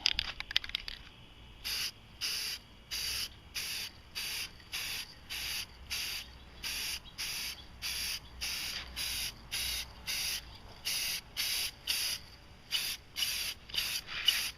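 Spray can laying a first coat of camo paint over an Igloo cooler, with a rapid series of short close hissing bursts separated by brief pauses and no talk.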